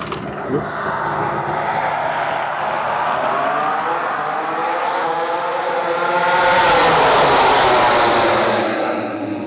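Powerful MotoGP racing motorcycles, including Aprilias, roar past on a warm-up lap at Brno, rising to a loud, close peak before fading, with a steady engine drone throughout.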